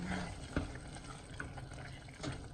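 Water pours steadily into a pan of vegan lasagna filling, a soft continuous liquid trickle with a few light clinks, fairly close and moderately quiet.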